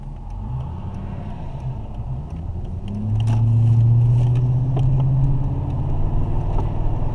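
Interior road noise of a 2000 Mercedes-Benz CL500 on the move, a steady low engine and tyre rumble that swells and thickens midway as the car accelerates, with no talking.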